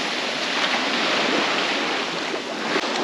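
Waves washing on the beach at Koh Rong Island, a continuous broad rushing surf that stays loud and even throughout, with some wind noise and no voices.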